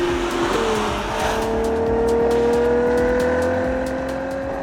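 A Ferrari 12Cilindri V12 driven hard on a race track roars past close by at full throttle, its engine note climbing steadily in one long, loud pull while the tyres hiss.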